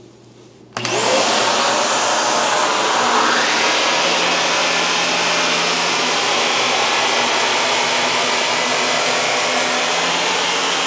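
A Shark Navigator Zero-M vacuum cleaner starts abruptly and runs on dirty carpet, a loud, steady whining roar that holds close and constant with no voices.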